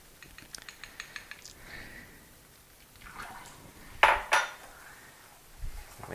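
A spoon scrapes and clinks against a bowl while sugar is mixed into melted butter for persimmon brownies, giving light taps, then scraping strokes and two louder knocks against the bowl, with no talking.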